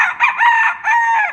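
A rooster lets out a loud, close, drawn-out crowing call in a few connected sweeping phrases, with no other sound around it.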